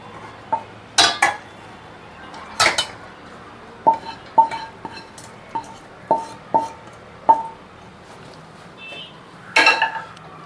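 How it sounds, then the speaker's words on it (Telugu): A spoon scrapes and clinks against a nonstick pan and bowl in a series of short, sharp knocks while transferring fried ivy gourd, close by, with quiet pauses between. "నాన్ స్టిక్లో చేశాను కాబట్టి మళ్ళీ వేరే గిన్నెలోకి తీసేసుకుంటున్నానండి"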